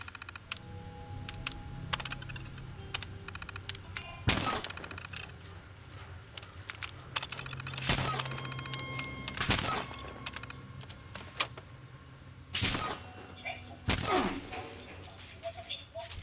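Gunfire in the video game Fallout 76: several sharp shots land over about sixteen seconds, with the loudest bursts near the middle and toward the end, over a steady bed of game ambience.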